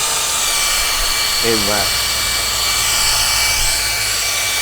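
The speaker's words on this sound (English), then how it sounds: "There's the fan running." The fan of an Exped Widget runs on its exhaust side, giving a steady, even whirring hiss throughout, with a brief spoken voice partway through.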